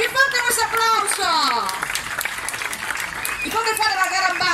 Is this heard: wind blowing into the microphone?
no